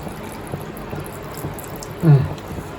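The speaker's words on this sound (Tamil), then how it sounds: "அதில் இருக்க 2 கிளாஸ் வாட்டர் 2 கப் வாட்டர் ஊற்றுவேன்." Two cups of water go into a pressure-cooker pot of rice and vegetables for pulao, heard as one short, close splash near the end against a quiet kitchen background.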